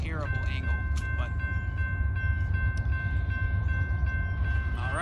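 CSX freight train M331 on the Metropolitan Subdivision sounds a long sustained horn chord that holds steady across the whole stretch, loud over a deep rumbling low drone of locomotive and rolling cars, with brief squeals at the start.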